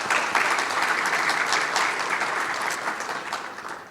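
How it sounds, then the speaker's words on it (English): A crowd at a graduation and honours ceremony for high-achieving HSC students and university graduates gives parents a full, dense round of applause that holds steady and then slowly fades. No one speaks. "So a really big round of applause for all the parents as well."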